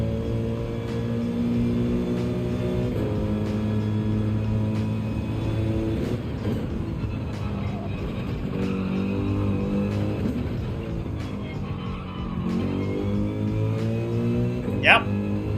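Mercedes-AMG race car engine in Gran Turismo 7 at Suzuka, a steady droning rumble with harmonic bands that rise and fall as the revs change, under near-continuous talk.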